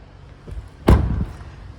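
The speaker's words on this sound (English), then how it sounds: "As we open the rear doors" A rear door of an Audi Q2 Black Edition is opened near the microphone, giving one solid thump with a short latch clunk and a brief fading rumble afterward.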